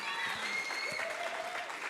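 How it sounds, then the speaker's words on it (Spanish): Audience applause at an anniversary forum of the Una Vida Mejor church, a steady wash of clapping lasting about two seconds, with a sustained tone and faint voices mixed in. "Bueno, aplauso, vamos"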